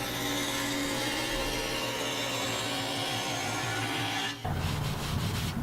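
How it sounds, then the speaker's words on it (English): A homemade spindle sander smooths an arc in oak, a steady loud abrasive rubbing over a motor drone that shifts in tone near the end as the wood is pulled away. "Now I'm going to use my homemade spindle sander to clean up that arc and make sure it's nice and smooth."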